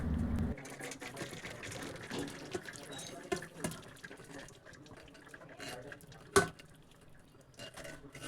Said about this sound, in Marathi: ती आपण आता एका चाळणीमध्ये गाळून घेऊयात आणि एक्स्ट्राचं पाणी बाजूला करूयात